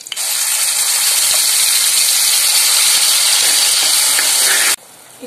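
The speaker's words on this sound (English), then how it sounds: "Now I will be adding the masala paste which we have prepared" Masala paste hits a hot pan for raw banana curry, giving a loud, steady, hissing sizzle that holds for several seconds and then drops off abruptly near the end.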